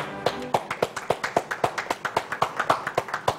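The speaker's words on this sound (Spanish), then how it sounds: "vamos a dar un aplauso aquí a los muchachos" A small group applauding young people after a robot presentation, quick, fairly regular claps close by with no talk over them.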